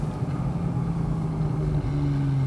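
A Porsche 911 991.1 Carrera S, engine not yet warm, drones loudly from inside the cabin while driving, its low engine note climbing and then dipping briefly as the revs change.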